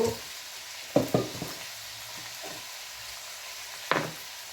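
Sliced onion sizzles softly in hot oil for an Indo-Chinese dish, a steady faint hiss broken by a few close scrapes and knocks of a spatula in the pan.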